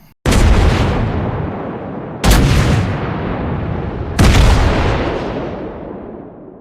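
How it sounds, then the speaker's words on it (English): USS Iowa main battery guns firing in World of Warships Blitz, three heavy booming salvos about two seconds apart, each a sharp blast followed by a long rumbling decay. "This is just the main guns firing."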